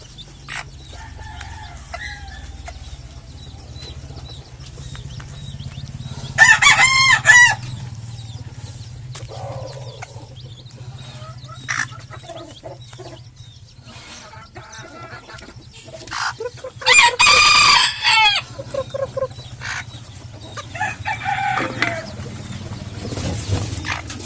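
Bantam chickens and chicks cluck and peep close by, with loud bursts of rooster crowing breaking in twice over a steady farmyard hum; a person speaks at times.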